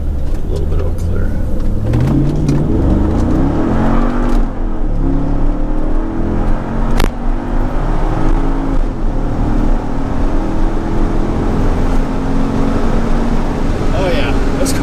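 A Mercedes SL55 AMG, a 4,200-pound car, accelerates hard with traction control switched off, its engine roaring loud and steady throughout as the pitch climbs through gear changes, with occasional voices over the engine noise.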